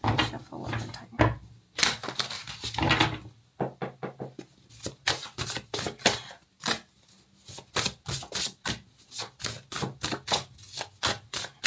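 Tarot cards being shuffled by hand, a rapid run of crisp flicking riffles and taps in irregular bursts, close and alone.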